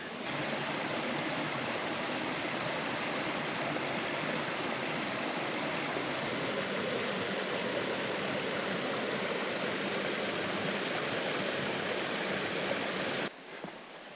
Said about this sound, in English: River has quieted down for the first time in a while. Very peaceful through here. Just a gentle flow.